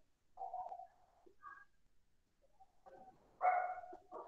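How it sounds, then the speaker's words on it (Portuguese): A dog barks a few times somewhere close by, short separate yelps with pauses between them and a louder burst near the end, heard in an otherwise quiet room. "Tem um cachorro que resolveu latir aqui perto"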